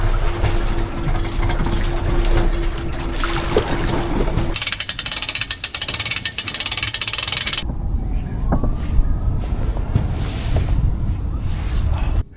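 Brand new outboard motor running on a small boat out on open water, a steady engine drone mixed with strong wind buffeting the microphone and water noise, no talk.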